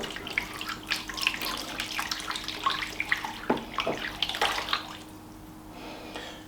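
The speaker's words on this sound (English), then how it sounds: "And I'm just going to soak this in some warm water." Warm water from a tap runs and splashes into a dough tray holding an oak plank, a steady trickle with a few louder gurgles before it tapers off near the end.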